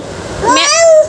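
A kitten gives a single rising then falling meow, close and fairly loud, lasting under a second after a soft background hiss.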